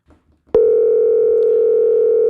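A telephone call goes unanswered. After a sharp click, a loud, steady electronic phone tone begins and holds unbroken to the end, following a few faint sounds in the quiet before it.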